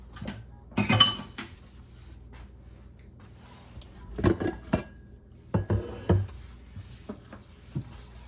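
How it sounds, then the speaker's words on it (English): Dishes and cutlery clinking while being washed in a home kitchen, a few clustered bursts of clatter separated by quiet stretches of low background noise. "more dishes that I gotta clean now"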